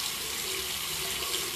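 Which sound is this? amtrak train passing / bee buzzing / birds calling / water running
water running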